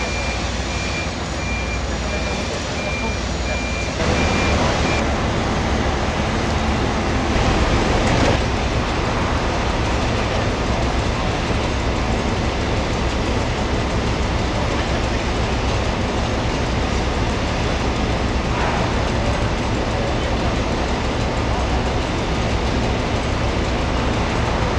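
A subsea trencher machine runs with its cutters moving up and down, giving a loud, continuous mechanical rumble with clanking and a faint high beep early on.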